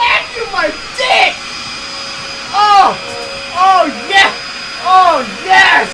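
A vacuum cleaner runs with a steady mid-loud drone throughout, while excited voices repeatedly break in over it in short, loud bursts.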